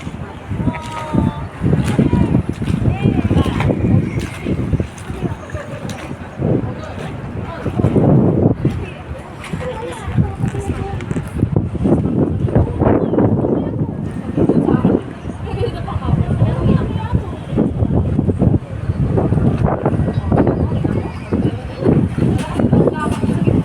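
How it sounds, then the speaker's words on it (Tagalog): Strong wind roars and gusts against the microphone for a long stretch while people talk over it. "Malakas ang hangin."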